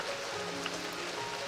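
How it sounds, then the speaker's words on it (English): Steady rain falls in an even, soft hiss with faint patters, continuous and unbroken, with a low sustained tone underneath. "the sound of rain"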